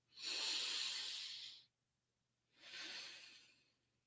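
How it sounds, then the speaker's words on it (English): Deep breathing through the nose during a meditation exercise: two long, close, quiet airy breaths separated by a brief silence. "I'm not breathing through my mouth, I'm breathing with my nose"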